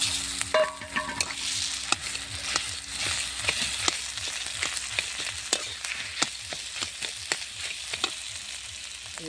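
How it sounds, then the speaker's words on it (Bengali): Potatoes tipped into a pan of oil with reddened fried chillies, a bright steady sizzle with repeated close scraping and stirring strokes of a spatula, no voices. "মরিচটা সুন্দর হয়ে লাল হয়ে গেছে আলুটা ঢেলে দিলাম"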